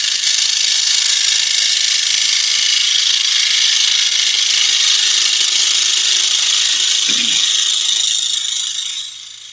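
A power saw cuts through a board with a steady, loud, hissing whine that holds for about nine seconds, then tails off as the cut ends.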